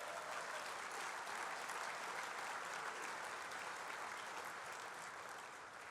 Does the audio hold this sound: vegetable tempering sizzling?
no